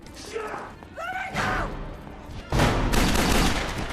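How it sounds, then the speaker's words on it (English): Gunfire from a film shootout cracks out in sharp bursts mixed with a shouted voice and thuds, loud and close, ending in a dense rattle. "Crost orders Connor to be killed, setting off another violent shooting."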